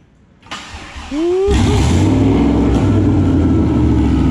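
A turbocharged truck engine fitted in a Corvette, running on a dyno, fires up and then settles into a loud, sustained, rising roar. A rising whine sweeps up near the start.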